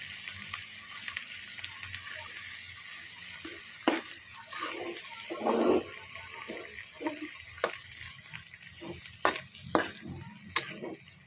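Tiny salted shrimp (alamang) sizzle softly in a pan while being stirred, with scraping knocks and clicks from the utensil scattered over a low, steady frying hiss.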